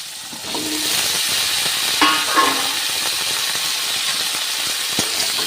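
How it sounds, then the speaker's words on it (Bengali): Potatoes and okra frying together in a pan, giving a steady, close sizzle with a few brief scraping stirs partway through. "আলুগুলো দিয়ে দেবো আলুগুলো এর সাথে ভাজা ভাজা করে নেবো"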